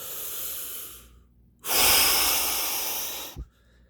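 A single long, forceful exhale rushes out close to the mic after a quieter breath, like pushing out a final rep, then ends with a short snort-like catch and silence.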